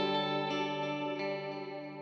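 Sustained electric guitar chord through a Line 6 HX Stomp multi-effects unit with delay and reverb, ringing with ambient wash and soft repeated attacks, alone and steady.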